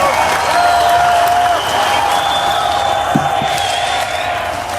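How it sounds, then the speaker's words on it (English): A crowd at a rally applauds and cheers for the election of President Donald Trump, a loud sustained roar of clapping with whoops and whistles, slowly easing toward the end. "give yourselves a hand clap, ladies and gentlemen"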